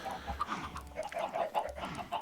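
Chickens in the Minecraft game, version 1.17.1, cluck in short repeated bursts, fairly faint, alone with no talk.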